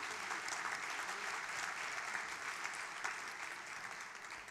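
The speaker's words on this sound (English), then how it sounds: "Let's have a round of applause." Audience at a neighborhood awards ceremony applauds, a dense even wash of clapping from a sizable crowd, moderately distant and steady for the whole span with no clear voices over it.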